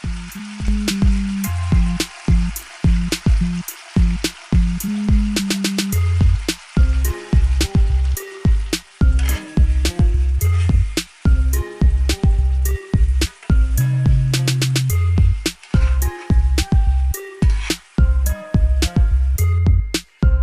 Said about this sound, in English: Now once your meat is brown, just go ahead and take it out.